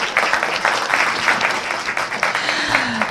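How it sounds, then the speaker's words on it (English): Applause from the audience at a city commission meeting, a short burst of scattered hand clapping in a room, moderately loud and fading slightly toward the end. "go ahead, clap."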